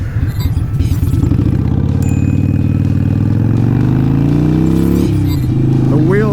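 A used Harley-Davidson motorcycle engine idles loudly and close up, its lumpy, uneven rumble continuing steadily before a brief change in pitch near the end.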